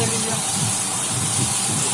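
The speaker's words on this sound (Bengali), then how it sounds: "এবার তেলের মধ্যে কালো জিরে কাঁচা লঙ্কা তেজপাতা ফোড়ন দিলাম" Black cumin, green chili and bay leaf crackle in hot oil left over from frying fish, giving a steady, even hiss that runs without a break.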